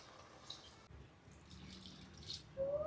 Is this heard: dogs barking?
no